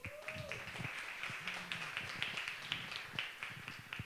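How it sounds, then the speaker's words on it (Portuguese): An audience at an open class on feminism and self-defense gives a short round of applause, with steady, mid-distance clapping that carries on throughout and mixes with a brief voice. "Palmas para Dani."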